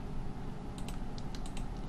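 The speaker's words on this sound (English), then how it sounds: "I'm just holding control and clicking all these, control backspace" Quiet, quick clicks of a computer keyboard and mouse come in a short burst of taps and presses during 3D spline modeling, faint and close over low room hum.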